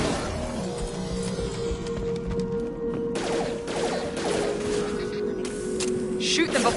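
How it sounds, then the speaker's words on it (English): Sci-fi combat in the video game Mass Effect 2, with scattered bursts of gunfire and impacts over a steady electronic hum and game effects, the shots clustered toward the end. "Shoot them before they take out your shields. Firing now."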